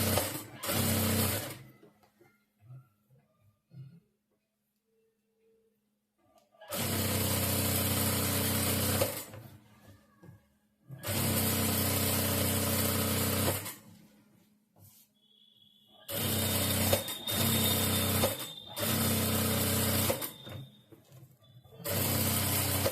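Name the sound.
sewing machine stitching a saree blouse lining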